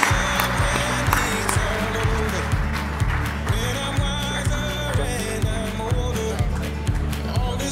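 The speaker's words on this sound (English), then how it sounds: "Please join me in a round of applause for the team from the Rocky Mountain chapter of MCAA at Colorado State University." An audience at the Colorado State University MCAA student chapter competition gives a steady round of applause that keeps up the whole way, over a low rhythmic background hum.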